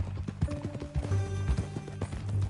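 Horse hooves clop in uneven, repeated beats as a horse moves in Red Dead Redemption 2, close and fairly loud, with a low rumble and faint music underneath.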